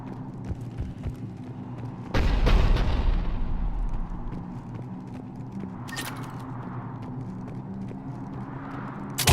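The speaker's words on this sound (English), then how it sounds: "The cannon fire is clearing the way." Heavy Cerberus cannon fire in a Mass Effect 3 battle: a sudden deep booming blast around two seconds in, with a rumbling low roar that lingers and a sharper crack later, over a constant dull battle drone.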